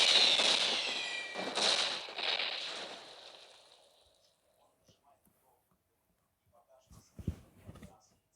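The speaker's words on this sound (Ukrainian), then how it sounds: "Салюти!" Video game fireworks crackle and boom in a dense burst that fades into quiet, followed by a few scattered pops and a voice near the end.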